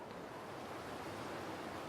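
Steady broadband wind blowing across an open winter landscape in the survival video game The Long Dark, a continuous even rush with no gusting peaks and no voices.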